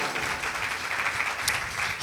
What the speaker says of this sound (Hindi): पुरज़ोर तालियां बजाइए।